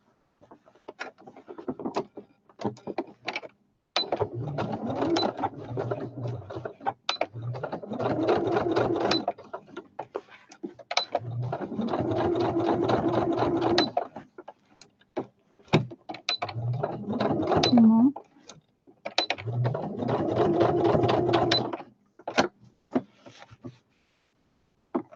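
A sewing machine stitches a fabric flower basket in five or six separate runs, each a rapid mechanical chatter of a few seconds broken by short pauses, close and fairly quiet.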